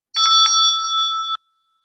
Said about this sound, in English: It's a meditation bell, and because it's a meditation bell, it rings and it keeps on ringing.